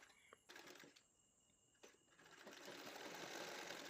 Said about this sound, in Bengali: এই যে খোলা অংশ ছিল সেটা আমি সেলাই করলাম